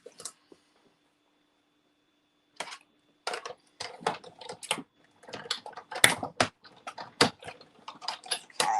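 Basic white cardstock being cut with dies, a quick series of crisp clicking and crunching taps in uneven bursts that start after a brief quiet and grow denser toward the end, close by, with no talking.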